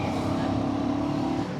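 Royal Enfield Guerrilla 450 single-cylinder motorcycle engine running while ridden, a steady droning hum with a firm low pulse under wind, loud and close, briefly easing at the end.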